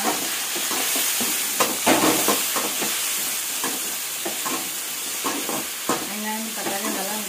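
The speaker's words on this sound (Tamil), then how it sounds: "வெங்காயம் தக்காளி நல்லா மிக்ஸ் ஆகுற மாதிரி நல்லா வதக்கி விட்டுக்கலாம்" Onions and tomatoes sauté in a pan with a steady hiss and sizzle, punctuated by repeated close-up scraping and clanking of a spoon stirring them, fairly loud and continuous.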